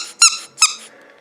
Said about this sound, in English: Squeaky shark.